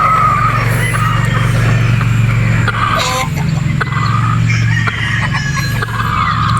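A brood stag rooster at a game farm in Batangas clucks and calls amid other fowl, heard over a loud, constant low engine-like rumble throughout.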